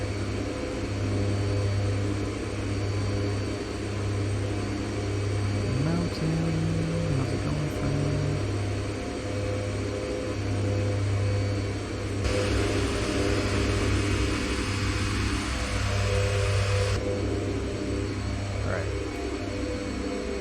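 Twin Otter propeller engines in X-Plane 11, throttled to full idle during a descent, give a steady low drone with a constant hum throughout, moderately loud, and the tone shifts slightly partway through.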